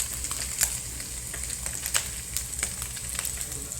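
Flaked galunggong fish fries in a small amount of cooking oil, giving a steady, close sizzle with scattered sharp pops and crackles throughout. No one speaks.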